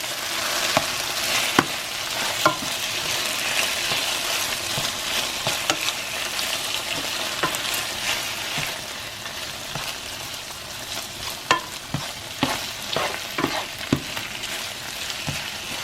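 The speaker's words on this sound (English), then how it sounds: "All we're going to do is sear it till it get brown." Beef searing in a pan for beef and broccoli, a loud constant sizzle across the whole stretch with frequent sharp spatula taps and scrapes as the meat is moved, no talk.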